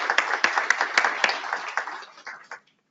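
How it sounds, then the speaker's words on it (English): Scattered clapping at a membership meeting, a thin round of applause from a modest audience that thins out and stops after a couple of seconds. "we'll give her a round of applause"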